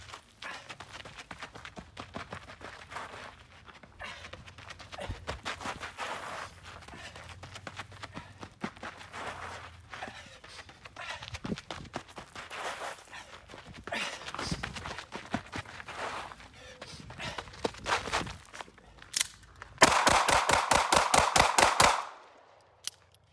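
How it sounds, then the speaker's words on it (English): A pistol drawn from a sticky holster fires a rapid string of sharp, loud shots near the end, preceded by scattered movement and handling noise; voices are heard briefly. "Gun stayed in place, Drew, every shot on target"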